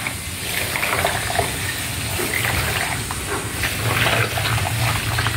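Dirty, blackened water from cleaning a Toyota car's air-conditioning condenser pours out in a steady, hissing gush and splash, close and continuous for several seconds.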